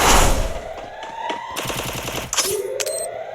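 Automatic gunfire rings out in the mobile shooter game Free Fire as rapid bursts of close, loud shots, separated by short gaps, with electronic game effects sounding between them.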